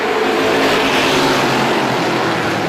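Strictly stock race cars roaring around an oval track, a dense sustained wash of engine noise from several cars heard from trackside at steady high volume, with no voices.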